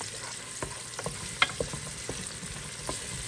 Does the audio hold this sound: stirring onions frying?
yes